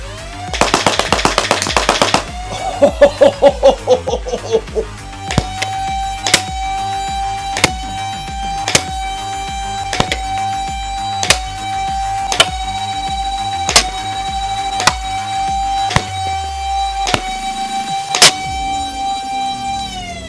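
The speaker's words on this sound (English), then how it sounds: "Let's do a little full auto dump." Dart Zone MAX Omnia PRO foam blaster, first generation, winds up with a motor whir and then fires full auto in a rapid, steady mechanical clatter, shot after shot, ending in a few slower thumps with no talking.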